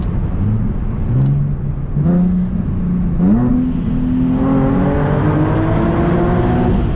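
A Nissan 370Z Nismo accelerates hard, its engine note climbing through the revs in loud rising pulls with brief dips at the gear changes, heard close from inside the car with no talking.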